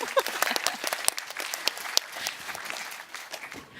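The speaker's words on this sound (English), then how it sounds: "Can we applaud?" An audience at a precision health conference applauds with a sustained scatter of close and distant claps that slowly thins out toward the end.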